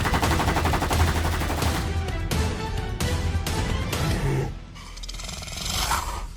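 Rapid bursts of gunfire from a school-life simulation game set in Sakura town, dense and loud, with repeated shots crackling over layered background music and effects, no talking.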